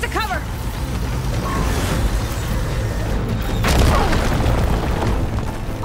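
A hostile machine fires, and a deep booming blast rumbles in a Horizon Forbidden West battle. The low explosion swells under overlapping voices and game sounds.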